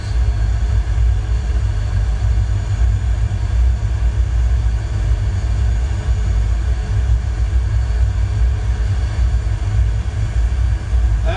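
Aircraft in flight on approach to San Francisco airport, heard from inside as a loud, steady low engine rumble and drone that never lets up.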